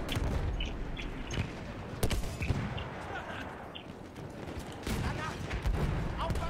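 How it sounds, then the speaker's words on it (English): Artillery and gunfire in Battlefield 1, with a rolling barrage of sharp blasts and crackling shots, some louder impacts standing out, and a voice talking over the din. "Oh my god, artillery on the bridge."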